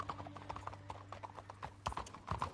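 Horse hooves clip-clop in Red Dead Redemption 2, a steady run of near, distinct hoofbeats over a low ambient hum, with a brief whinny-like sound mixed in.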